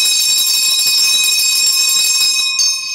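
An electric doorbell rings continuously and loudly for about three seconds, a bright sustained metallic tone that dips slightly near the end, with no talk over it.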